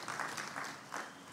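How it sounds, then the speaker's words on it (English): Brief, moderately soft applause from an audience at a memorial celebration of life, a steady wash of clapping hands lasting just over a second. "You might give us a round of applause."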